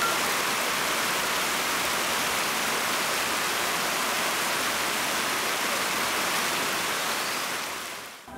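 Steady broadband rush of a river in Bashkiria, loud and continuous like a waterfall or fast stream, close to the microphone with no voices, fading abruptly at the very end.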